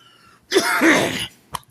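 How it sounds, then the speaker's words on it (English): A single harsh cough with a throat-clearing rasp, close and loud, followed by a brief sharp exhale after a short pause. "sorry about the coughing"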